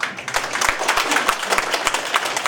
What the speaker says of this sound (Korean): 안 보여도 박수 치면 됩니다